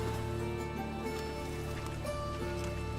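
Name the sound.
rain in video game The Witcher 3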